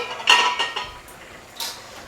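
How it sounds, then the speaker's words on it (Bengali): A metal lid lifted off a cooking pot of Bengali shukto with potatoes and bitter gourd: a sharp clink at the start, a softer knock, then another light clink near the end, close and fairly quiet. "ঢাকনা খুলে দেখবো বন্ধুরা"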